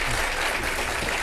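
A live studio audience on a comedy talk show applauds with steady, loud clapping that fills the whole moment without a break.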